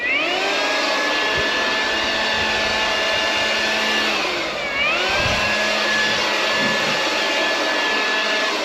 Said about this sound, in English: have a blower handy, because you'll end up with bits on concrete no matter where you're doing it